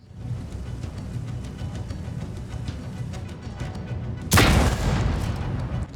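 A single heavy tank cannon shot in World of Tanks booms out near the end, sharp and loud, after several seconds of low rumbling engine and battle ambience.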